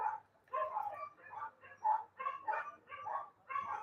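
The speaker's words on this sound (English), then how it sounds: "the dogs are excited across the way" Several dogs bark excitedly across the way, a steady run of roughly eight yaps and woofs at moderate distance, sounding alone without any talk.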